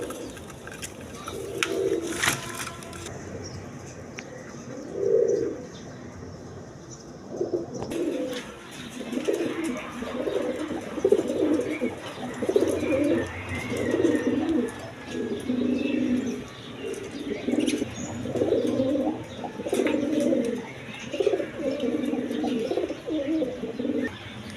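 A pair of White Danish pigeons coo steadily and repeatedly at close range, soft rolling calls arriving in rhythmic phrases over faint background noise with occasional light chirps.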